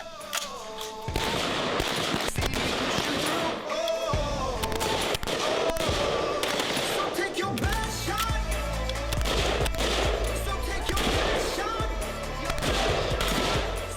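Rapid rifle fire from soldiers in close-quarters battle shooting training with an army infantry company, loud sharp shots in fast bursts and strings with short gaps, echoing close by, with magazine changes between volleys.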